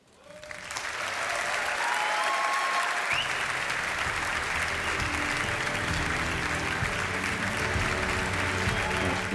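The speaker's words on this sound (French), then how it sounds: "Les applaudissements de ses coéquipières." Teammates applaud as a Barcelona player receives the women's Ballon d'Or at an awards ceremony. Loud, sustained clapping swells in quickly, and a low hum from the hall runs beneath it.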